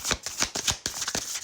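Tarot cards shuffled in several quick riffling bursts, close and fairly quiet, with no voice.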